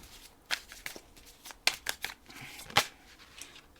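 Tarot cards being placed and flipped over on a table during a reading, giving a few short, crisp snaps and slaps of card stock close by, with soft rustling between them and no speech.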